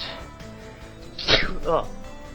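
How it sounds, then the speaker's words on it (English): A single sudden sneeze from someone with a cold bursts out near the mic mid-clip, with a smaller follow-up sound, over video game battle music and sounds in the background. "Sorry about that, I sneezed."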